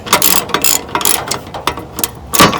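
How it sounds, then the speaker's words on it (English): A ratchet tightening bolts on the mower deck of a Yard Machines MTD 638RL riding mower, loud close clicking pawl strokes in short uneven bursts. "always use the right size ratchet too"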